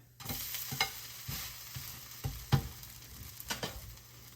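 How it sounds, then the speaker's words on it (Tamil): A masala dosa is turned over on a hot pan, soft sizzling running throughout with a few scraping stirs and light taps, quiet and close, with no voices. "தோசை ரெடி ஆகிடுச்சு. இப்போ பாருங்க, சுற்றி வர எல்லாமே கொஞ்சம் ப்ரௌன் கலராக இருக்குது. நான் இப்போ நான் அதை திருப்ப போகிறேன்."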